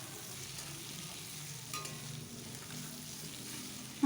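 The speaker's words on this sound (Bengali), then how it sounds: "আমি বারবার এইভাবে এপিট ওপিট করে ভেজে নিচ্ছি।" Kohlrabi fries in a pan while being turned over and over, a steady, quiet sizzle with faint stirring scrapes throughout.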